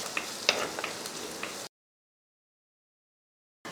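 Chopped onions sauté in coconut oil in a pan over medium flame while being stirred for a fish curry: a soft, steady sizzle with small crackles for under two seconds, then it cuts to silence.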